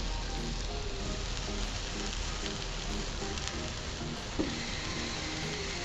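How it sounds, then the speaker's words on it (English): Tofu bacon burgers sizzle on a hot grill with a steady, dense crackle and hiss like heavy rain, close and loud throughout, with a faint clink partway through and no speech. "listen to that. Hear that sizzle?"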